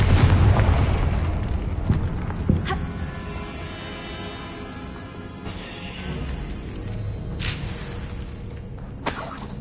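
Booming Confringo blasting-spell explosions in the video game Hogwarts Legacy, with a heavy blast at the start and sharp bursts near three, five and a half, seven and a half and nine and a half seconds over a rumbling game backdrop.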